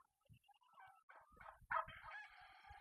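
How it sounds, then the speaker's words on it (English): A rooster crows once, a rising then drawn-out call at moderate distance, with a few soft clucks and low bumps around it. "There's 1 rooster and 2 hens on those lavenders."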